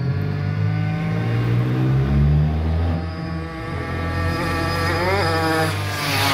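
A Mobylette moped revs and accelerates, its buzzy two-stroke whine climbing and falling in pitch with harmonic sweeps, close and loud, no voices over it.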